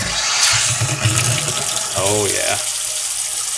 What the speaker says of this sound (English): Let's try our faucet, see if it works.